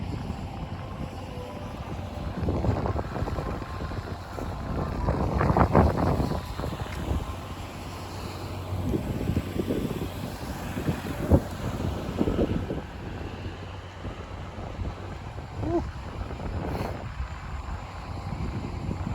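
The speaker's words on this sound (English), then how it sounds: "A cold wind is blowing." Cold wind gusts across the microphone on an outdoor walk in Kinugawa-Onsen, a low, rumbling buffet that swells and fades in irregular bursts over a steady background hiss.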